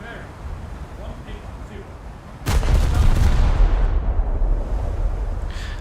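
Ship guns firing during a naval battle game: a quieter stretch gives way to a sudden loud boom that rolls into a sustained, rumbling barrage, with a voice speaking over it.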